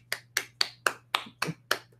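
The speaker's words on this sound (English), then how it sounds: "Everybody give a clap for Reggie." A few people in a small lounge clap in unison, seven sharp, evenly spaced claps about a quarter second apart, close and crisp with no talking.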